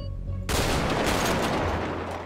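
Two sniper rifles fire together in the video game GTA 5, a single loud, sharp blast that cuts in abruptly after a quiet moment and then rings out as a long, rumbling, decaying echo.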